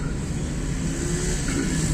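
Car engines hum steadily as traffic moves along a city road near the Athal Chowk area on the Bhara Kahu bypass, a continuous close engine drone with no voices.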